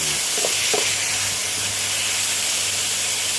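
Blanched mushrooms stir-fried with a splash of water in a hot pan give off a loud, constant steamy hiss and sizzle, with a few faint clinks of stirring near the start.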